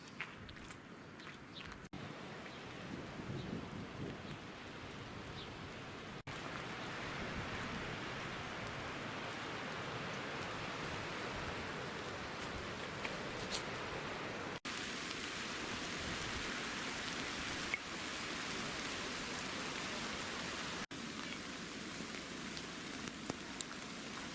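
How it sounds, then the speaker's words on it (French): Steady rain patters continuously for the whole stretch on the ocean coast by the Chassiron lighthouse, Oléron island, a dense even hiss of drops with no voices. "La pluie nous a rattrapés."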